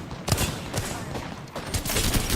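Rapid gunshots in the Apex Legends battle royale game, with a few sharp loud bursts in quick succession over dense, busy game noise.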